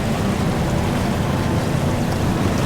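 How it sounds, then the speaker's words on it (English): Waves break and surge against a sailboat under sail at sea near the Messina Strait, a constant loud wash of water mixed with wind rushing across the microphone, with no voices. "just breaking waves"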